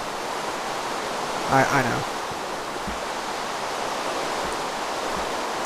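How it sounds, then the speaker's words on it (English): A waterfall in the Minecraft video game makes a constant, even rush of falling water, with a brief spoken remark early on. "We'll just climb up this waterfall."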